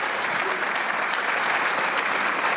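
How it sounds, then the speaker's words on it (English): A crowd at a James Bond themed charity gala gives a warm round of applause, the clapping dense, close and continuous throughout. "let's give Eon a big hand as well"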